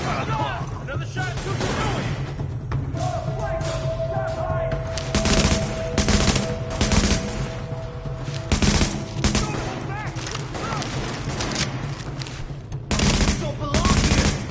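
Sustained machine-gun bursts and heavy gunfire in a PS4 shooter game, loud and near, with repeated volleys over a steady game soundscape and faint in-game voice callouts.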